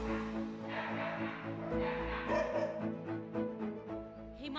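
Many dogs yip, bark and whimper at once in a shelter caring for more than 40 injured stray dogs in a rented house in Dattowal, Nalagarh, Himachal Pradesh. The sound is a continuous, busy mix from several animals at moderate distance.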